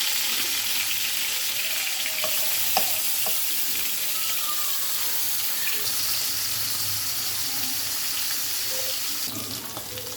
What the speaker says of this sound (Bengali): এবার প্রথমে মাছগুলো ভেজে নিব।